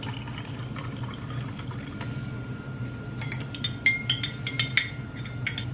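Hot water is poured into a glass at night before bed, giving a soft, steady trickle followed by a few light clinks of glass and cutlery near the end, all quiet and close with no talking.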